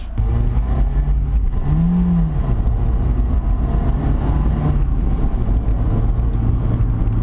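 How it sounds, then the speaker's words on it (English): An older manual Mazda Miata drones steadily while driving, the engine loud and close from inside the car, its pitch shifting slightly without sharp revs. "I love driving this car."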